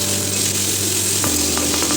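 Capsicum being stirred with a teaspoon of ginger paste in a frying pan, giving a steady soft sizzle with a few light scraping clicks near the end and no talking.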